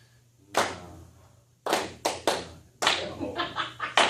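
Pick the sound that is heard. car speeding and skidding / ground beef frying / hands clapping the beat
hands clapping the beat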